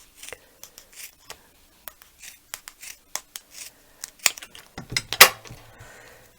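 Scissors trim a thin strip of paper for a winter card craft: a series of short, crisp snips at an uneven rhythm, close and clear, with louder cuts near the end and no talking.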